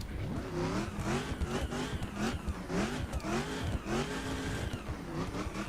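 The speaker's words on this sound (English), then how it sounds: "Love the fact the supercharger actually works." Supercharged 2012 Dodge Challenger SRT-8 in drag spec, from The Crew racing game, revs loudly and continuously, engine note rising and falling in repeated sweeps with no talk over it.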